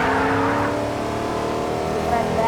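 A Lamborghini sports car engine in Fortnite roars steadily at high revs, with a continuous whine and some tire noise throughout.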